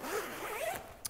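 A two-way zip on a Peak Performance Snowmass jacket is drawn along in one continuous rasping pull lasting about a second, close and fairly quiet, ending with a brief faint click.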